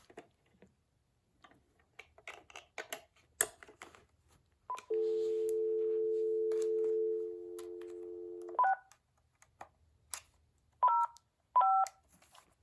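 DTMF keypad tones from a Panasonic or Uniden 2.4GHz digital cordless phone on a test line: one long steady tone, then two short separate beeps, with light clicks and handling noise between them.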